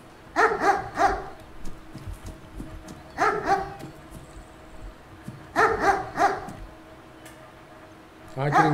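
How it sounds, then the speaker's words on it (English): A video-game dog barks in short, loud clusters, four separate bursts spaced a few seconds apart over a quiet background. "When the dog sees him, he'll start barking."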